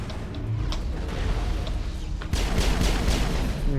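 Gunfire during a Mass Effect battle, a dense, continuous rattle of shots and impacts under a constant roar that grows slightly louder partway through, with no speech.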